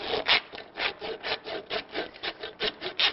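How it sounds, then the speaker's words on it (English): A hand saw scoring through the bone of the head during an anatomy dissection, steady back-and-forth rasping strokes at an even pace, close and clear, with no talking. "Take a saw and begin to score through"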